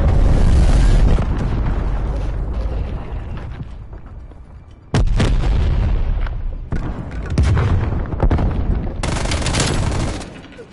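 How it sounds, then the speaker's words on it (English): Cruise missile strikes in the Call of Duty video game land as loud, deep booms. A heavy blast opens, another hits near the middle, and a further surge follows, with rumbling decay and scattered crackling between them. "Cruise missile inbound."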